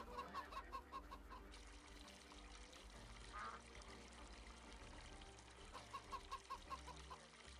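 Chickens cluck in short, rhythmic bursts in Farming Simulator 25, faint and steady over a continuous background of game ambience, with clucking phrases at the start and again near the end.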